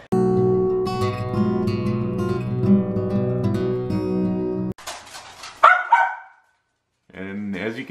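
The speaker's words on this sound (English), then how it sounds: "And as you can tell from the barking" A 15-year-old schnauzer barks close by in a home, short sharp yaps coming after a stretch of music-like tonal sound, with a gap of silence then a final whining bark; speech is present.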